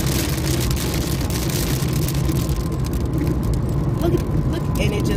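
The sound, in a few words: hail and rain on a car while driving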